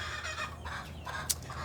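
A chicken clucks softly several times in short bursts, fairly quiet, with a brief sharp peep near the end.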